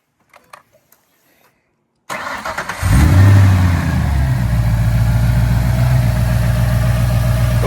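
A few faint clicks, then a 2008 Ford GT Cobra engine cranks and roars to life, revving briefly before settling into a loud, steady, rumbling idle.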